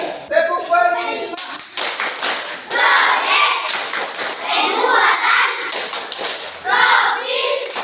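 Primary school pupils in a classroom doing a rhythmic call-and-response clapping routine, bursts of sharp patterned claps alternating with children's voices chanting and speaking between them.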